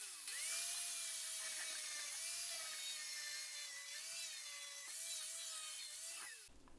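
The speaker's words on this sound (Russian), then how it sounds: "Сейчас зачистим данный профиль." An angle grinder cleans a metal profile tube, giving a continuous high whine whose pitch dips and wavers as the disc bites into the steel. The grinding is fairly close and runs unbroken until it cuts off abruptly near the end.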